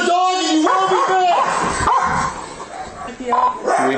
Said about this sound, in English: Dog coming.